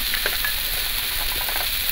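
Onions frying in oil with turmeric give off a loud, continuous hiss close up, with faint stirring textures and no voices.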